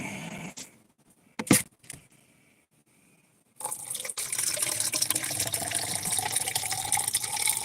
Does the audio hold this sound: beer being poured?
yes